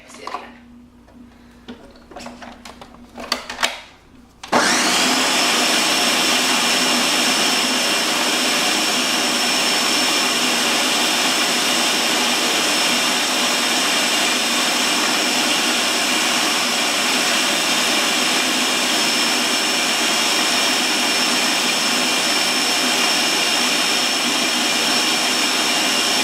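A blender starts with a few short pulses, then roars continuously and loudly as it churns frozen berries, banana and coconut into ice cream, a steady high whirring motor sound with no talking.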